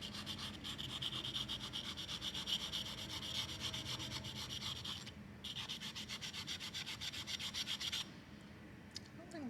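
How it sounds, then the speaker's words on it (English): Power sander working a small part for a magnetic pole mount for a fluorescent VFD text display, a steady close rasping grind running nearly the whole time with a brief dip in the middle and a drop near the end. "This might be easier on the sander."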